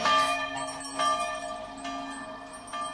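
Bells ring with sustained, overlapping tones, new strikes entering every second or so over a lingering hum, fairly loud and resonant.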